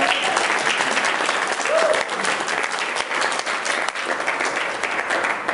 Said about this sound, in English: you can give him a hand clap